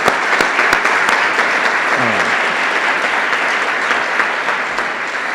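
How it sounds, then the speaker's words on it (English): Steady applause from a large audience honoring university students at a school challenge event, dense and sustained with no talking over it. "just a round of applause for all their hard work"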